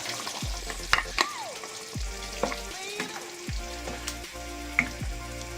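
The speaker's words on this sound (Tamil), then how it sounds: "அடுத்து நம்ம இந்த தேங்காய் அரைச்சி வச்சுருக்கேன், அதை ஊற்றிக்கலாம்." Coconut paste is poured into a simmering chicken curry and stirred, with soft bubbling and intermittent spoon scrapes alongside odd gliding tonal sounds, and nobody speaking.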